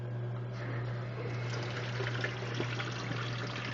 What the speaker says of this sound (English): With the outlet hooked onto the sink, to the tap, you now turn on the water.